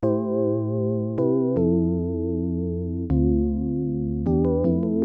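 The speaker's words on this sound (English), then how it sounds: "this is how it sounds without the effects" Dry synth melody run in FL Studio with no effects, sustained bright tones shifting pitch in a few clean steps, then a quick run of short notes at the end, played alone.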